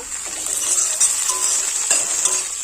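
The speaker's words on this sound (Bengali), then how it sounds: "পেঁয়াজ লঙ্কা রসুন আর বড়ি সব কিন্তু খুব ভালোভাবে ভেজে নিতে হবে" Onion, chili, garlic, bori lentil dumplings and tomato frying in a pan, a bright continuous sizzle with light stirring clicks, close and fairly loud.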